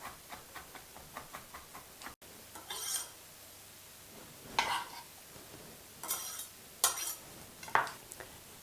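Knife tapping on a cutting board while garlic is chopped, a run of light rhythmic knocks at the start, then a pause and scattered louder clatters and scrapes, fairly close with no talk.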